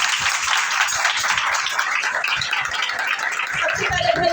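A church congregation at a worship service claps steadily to welcome guests, a dense and continuous round of applause that stays at an even level throughout.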